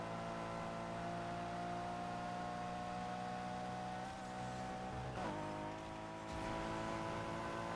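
A Volkswagen Golf drives steadily in a video game, its engine holding an even, moderately loud hum with a brief dip near the middle, with no talking over it.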